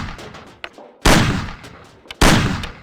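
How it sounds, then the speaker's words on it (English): Pistol shots fired at cans on a table in the Mafia video game: two loud, sharp blasts about a second apart, each with a decaying tail, separated by faint clicks of handling the gun. "Shoot the cans off of the table."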